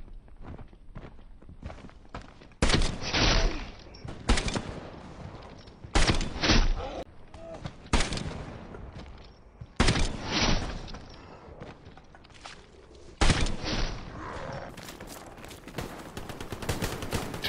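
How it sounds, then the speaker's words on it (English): Repeated gunshot bursts in the video game Hell Let Loose, some single cracks and some rapid volleys, sharp and loud over a steady game background noise, with no voices. "They don't hear the gunshots or what?"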